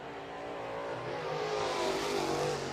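Zachary Kane's 10K late model race car running on the East Bay racetrack, a faint, distant engine drone that rises in pitch as the car accelerates.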